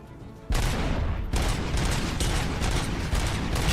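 Rapid gunfire from the RoboCop video game, a loud sustained barrage of overlapping shots and impacts that bursts in after a quieter start and keeps going nearly continuously to the end.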